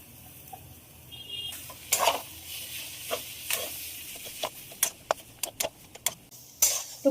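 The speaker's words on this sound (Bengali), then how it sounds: "আলু দিয়ে খুব ভালো করে নাড়বো" Boiled potato stirred into an egg and chicken chop filling in a pan: scattered spoon scrapes and light clinks, irregular and fairly close, over a faint sizzle.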